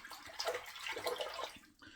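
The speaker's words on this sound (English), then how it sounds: "Dipping the tips in the water a little bit here before I start" The tips of a shaving brush are dipped in water before an inexpensive shave, giving about two seconds of soft, continuous splashing and trickling close to the microphone.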